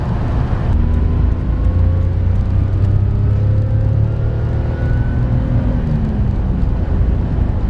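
A 1998 Daihatsu Sirion with a 1-litre engine driving on the open road, a loud steady engine drone and road rumble heard from inside the car, with the engine pitch slowly rising and falling.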